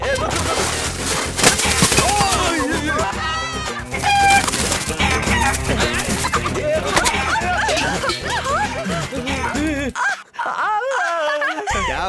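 Chickens cluck and squawk loudly amid a busy, noisy scene with shouting voices and music, ending in a brief quieter moment.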